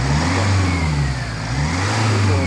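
A 2.0 Ingenium 204DTD diesel engine, recently optimised and repaired, revs up close by, a loud throaty drone that swells, dips slightly and rises again.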